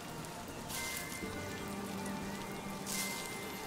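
Steady rain in the video game Earthlock patters on a surface, a continuous wash of drops with a faint tonal hum underneath.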